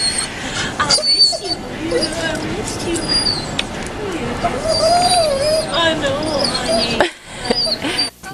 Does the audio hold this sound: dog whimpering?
yes